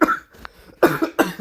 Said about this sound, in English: I got this dry cough.